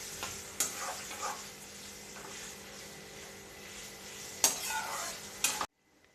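Noodles for chicken chow, dressed with soy sauce and vinegar, are stirred in a hot pan over a steady sizzle, with a few sharp scrapes of the utensil before the sound cuts to silence.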